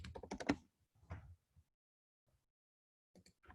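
Bursts of rapid keystrokes on a computer keyboard, a dense flurry of taps at the start, a shorter cluster after a pause, then a few last clicks near the end, close and clear with no talking.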